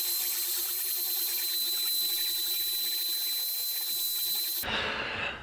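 A small rotary drill bores into a handmade ring, giving a steady, close, high-pitched whine with a hissing edge that runs unbroken and then cuts off abruptly near the end.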